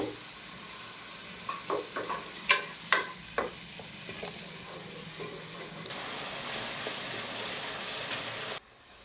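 Onion and tomato sauté in a pan for mushroom kurma, a soft sizzle broken by several scraping spoon strokes, then a brighter, louder frying hiss toward the end.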